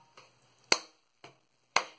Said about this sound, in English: Lap and clap.